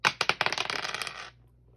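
A pair of dice rolled across a hard surface before a Pokémon card pack opening give a rapid string of close, bright clacks that settle and stop after about a second, with no talk.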